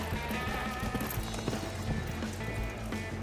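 A horse's hooves walk at a horse show, a soft steady clip-clop mixed with arena ambience and faint background voices.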